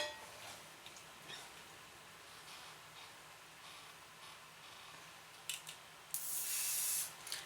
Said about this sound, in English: Let's go ahead and put some hairspray in our eyebrows.